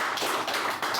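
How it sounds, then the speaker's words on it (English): Audience applause at a live question-and-answer show, a dense continuous wash of clapping filling the whole short moment at steady loudness with no voices over it. "Big applause for that."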